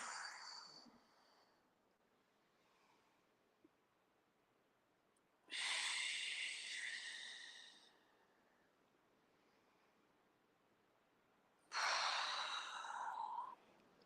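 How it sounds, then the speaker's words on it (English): Slow, audible breaths during a spinal cord breathing exercise in a tai chi class, heard as two long airy exhales of about two seconds each, separated by quiet. "Let's do some spinal cord breathing."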